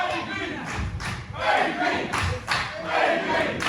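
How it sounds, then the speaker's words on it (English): A wrestling arena crowd cheers and chants rhythmically to rally a tag team wrestler, loud and surging in waves, with a commentator's voice underneath. "The crowd trying to fire up Vaughan"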